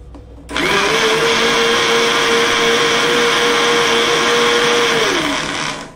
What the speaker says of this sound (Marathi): मिक्सरला सुंठ बारीक करून घेऊया